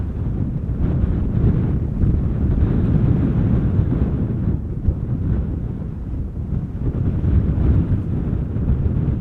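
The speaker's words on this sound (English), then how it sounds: "If the wind continues to pick up" Strong wind at Schiphol Airport, a loud continuous roar and buffeting rumble against the microphone that stays steady throughout with no voices.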